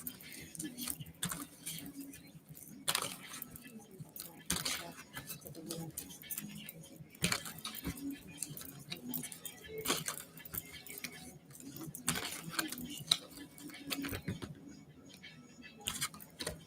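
Soft, papery shuffling of cards close by, quick riffles and taps repeating irregularly at a low level.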